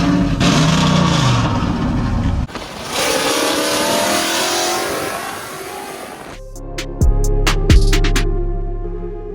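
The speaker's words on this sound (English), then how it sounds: "Borla Attack mufflers that are dumped underneath the bed" A cammed 5.7 Ram 1500 with Borla Attack mufflers dumped under the bed revs loud and close, its exhaust roaring and rasping for several seconds before the sound shifts abruptly.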